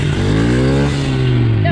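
A motorcycle engine wound out in first gear during a wheelie, a loud steady high-revving drone held close for under two seconds.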